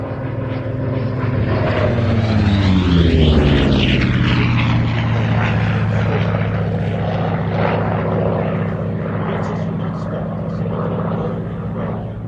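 A Grumman F8F Bearcat propeller aircraft drones loud and close, its engine tone sweeping down in pitch as it passes and then holding a steady throaty roar.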